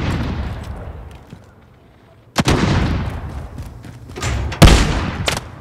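Gunfire in Call of Duty Warzone, a few sharp loud shots bursting in after a quieter stretch, followed by more cracks and a heavy close blast near the end, with some voice in the background.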